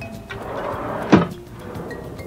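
Handmade wooden box-joint drawers sliding along their runners, a soft continuous rub followed by one sharp wooden knock as a drawer shuts, then a quieter slide.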